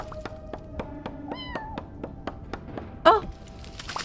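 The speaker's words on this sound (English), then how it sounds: "I just heard a kitty." A cat meows in the Vintage Story survival game, one clear, fairly close meow rising over a steady run of rhythmic tapping and clinking, with a second, fainter cat call earlier.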